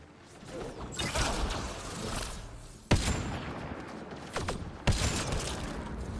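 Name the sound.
rifle gunfire in video game Mass Effect Andromeda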